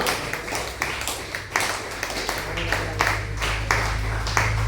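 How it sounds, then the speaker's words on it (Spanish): A church congregation claps together in praise, a rhythmic, fairly steady beat of many hands with a low hum underneath, moderately distant and even. "Aplauda el nombre de Jesús, aleluya."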